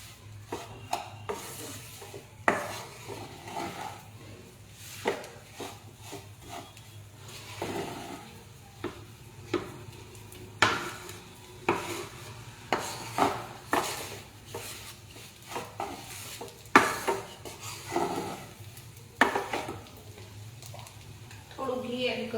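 Kaju katli mixture of cashew and sugar stirred in a pan, giving a run of repeated scraping and rubbing strokes at a steady, uneven rhythm, close and moderately loud, with a faint low hum beneath.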